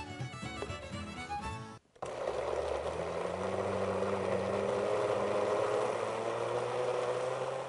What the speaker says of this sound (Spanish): El nopal lo vamos a licuar